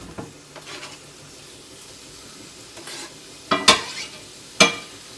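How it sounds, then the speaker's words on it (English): Pork sausage frying in a little oil in a pan gives a low, soft sizzle, broken near the end by a few sharp metal clinks of a utensil against the pan. "Love that sizzle, huh?"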